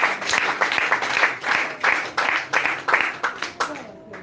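A church congregation applauds during a French-language worship service to acclaim the Lord, a loud burst of rhythmic clapping that pulses in waves for several seconds before thinning out.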